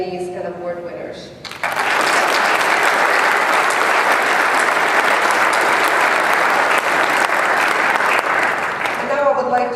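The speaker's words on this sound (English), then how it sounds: "Please join me in a final round of applause to congratulate all of the nominees and award winners." An awards ceremony audience breaks into loud, sustained applause for the nominees and award winners. It follows a moment of speech, fills the room evenly for several seconds, then fades as a voice returns.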